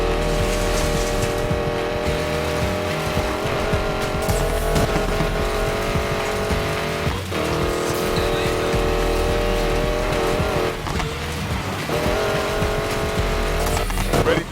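A hypercar fitted with prototype black-market tech races in Need for Speed Payback, its engine roaring loudly and continuously with shifting pitch and occasional tyre squeal, over a game music bed.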